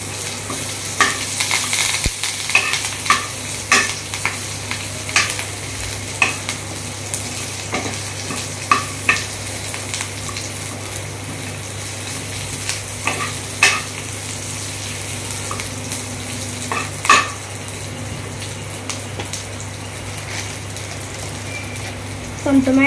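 Curry leaves and vegetables sizzle and crackle in a pan during a school cooking activity, with repeated stirring scrapes and taps over a steady hiss, close and fairly loud, and a voice speaks briefly.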